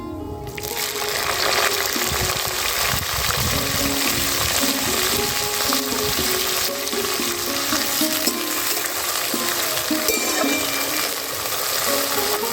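Chopped onions sizzle and fry steadily in hot oil seasoned with cumin seeds and two bay leaves, a loud, continuous crackle with occasional stirring, close up and without talk.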